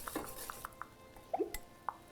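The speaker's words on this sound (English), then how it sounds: "Now I'm gonna whisk in the dairy." A whisk works dairy into a thick, pale, whipped egg base for ice cream. It gives scattered light metallic clinks and pings against the bowl with soft stirring between them, close and fairly quiet, with no voices.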